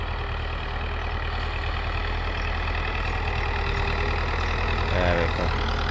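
A tractor engine idles steadily with a deep, even rumble, close and continuous, with a brief mechanical rattle near the end, the tractor leaking oil from under the seat while ploughing a field.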